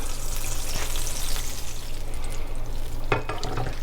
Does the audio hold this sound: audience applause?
no